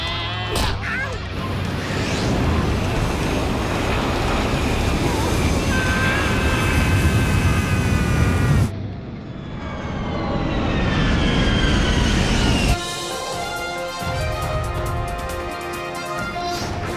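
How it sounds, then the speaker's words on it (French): Airliner engine roaring loudly and continuously in a cartoon scene before crashing into a toilet paper factory, a dense close roar that shifts character midway with faint voices beneath. "Un avion de ligne se serait écrasé sur l'usine de papier de toilette rouleau"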